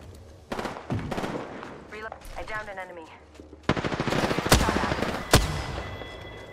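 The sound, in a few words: gunfire in the video game Apex Legends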